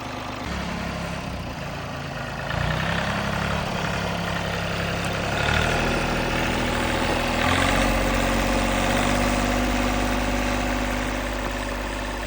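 An Iseki 16-horsepower small tractor engine idles steadily, a low rumbling drone that lifts slightly partway through and keeps running without pause.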